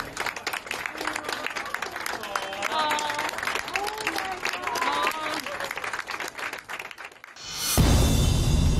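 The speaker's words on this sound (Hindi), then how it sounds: "जिस पर मेडिकल स्टाफ ने भी उनके साथ तालियां बजाकर खुशी मनाई" Hospital medical staff clap together for a mother who has recovered from COVID-19, a steady patter of applause mixed with voices, ending in a sudden burst of noise.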